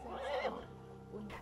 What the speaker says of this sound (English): What we notice is the neighing of mares and foals.